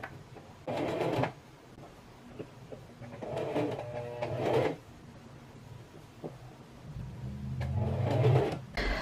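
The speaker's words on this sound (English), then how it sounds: "we're going to go ahead and do a top stitch, and when we do that top stitch we are going to sew right in the ditch here" A sewing machine top-stitches in the ditch of a seam on a mini dress with a ruffle skirt, running in several short bursts of whirring stitching separated by quiet pauses, close by, with no talk.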